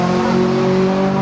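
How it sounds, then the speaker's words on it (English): Honda car going past, a loud, close engine drone with steady tonal hum across a brief moment, no talk. "I think a Honda just passed"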